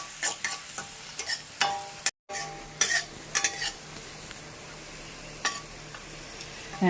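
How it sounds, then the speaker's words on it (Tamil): Pirandai (veld grape) and tamarind sautéing in a pan, with a steady low sizzle and intermittent scraping stir strokes and utensil clinks, close and fairly quiet, with a brief dropout partway through. "இப்போ நம்ம வதக்கிட்டு காமிக்கலாம்"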